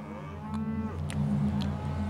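Cattle on an Australian dairy farm low steadily, a deep sustained moo swelling and holding across the whole stretch, with soft farm ambience and faint clicks behind it.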